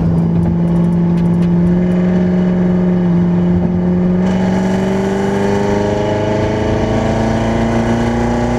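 A 2015 C7 Corvette fitted with a Procharger supercharger accelerates in a high gear, its loud engine drone rising steadily in pitch from low revs, heard from inside the car with no voices.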